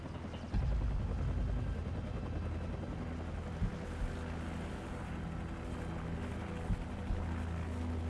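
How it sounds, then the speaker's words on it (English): A helicopter in the Call of Duty Modern Warfare video game gives a steady, loud rotor drone and engine rumble throughout, with occasional sharp thuds over the continuous noise. "Take out that helicopter."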